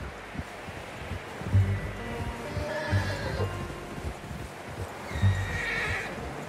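A horse whinnies several times in the video game Red Dead Redemption 2, with clip-clopping hooves and soft rustling around it; no one speaks.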